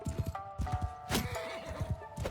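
Horse in the Bannerlord Shokuho feudal Japan mod galloping with rapid, close hoof clip-clops, a short whinny in the middle, over a steady game-music drone.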